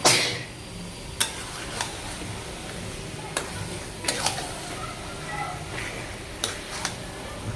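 Chicken pieces sizzle in a kadai while being stirred, a low steady frying hiss punctuated by scattered sharp scrapes and knocks of the spoon against the pan.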